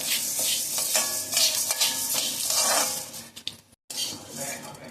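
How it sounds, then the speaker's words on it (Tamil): Black and white urad dal dry-roasting in a pan, with a steady rattling hiss of dry lentils and repeated metallic scrapes of a spatula against the pan, close and busy, briefly cutting out near the end. "அந்த ஒயிட் கலர் மாறுற வரைக்கும் ரோஸ்ட் பண்ணணும்."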